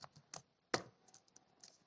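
Quiet keystrokes on a computer keyboard, a few scattered taps with a brief pause and then one louder clack followed by lighter clicks.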